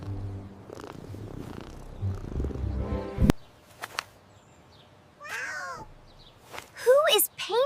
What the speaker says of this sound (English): This is Bella, the richest cat in town.